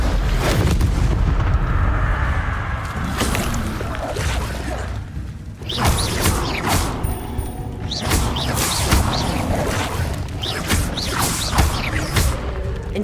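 Incendio fire spell cast in Hogwarts Legacy, loud booming bursts and whooshing blasts, several in a row over continuous game noise, close and dense with no talking.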